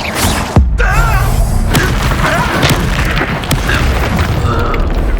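A fire spell bursting in a Hogwarts Legacy duel, a sharp loud boom near the start followed by crackling flames and battle effects.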